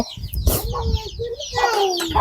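Chickens clucking on a Thai farm, a few short calls and squawks close by, with some background voices and rustling.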